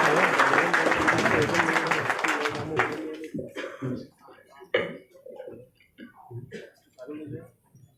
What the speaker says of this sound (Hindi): एक जोरदार तालियों से हमारे कलाकार स्वागत करें